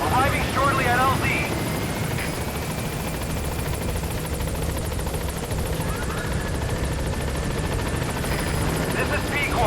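Pequod helicopter from Metal Gear Solid V arriving at a landing zone, its rotor and engine roar steady and loud throughout, with brief radio-style game sounds and effects layered over it.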